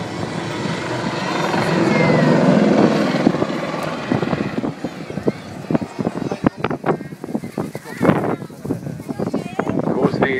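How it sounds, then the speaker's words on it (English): A helicopter performs a loop at the Southport Airshow 2012. A loud, sustained engine and rotor roar gives way to sharp, rhythmic rotor slaps as it pulls through, with a commentator talking over it. "that was a real loop in a helicopter."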